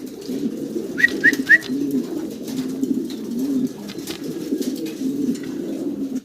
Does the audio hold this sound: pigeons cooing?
yes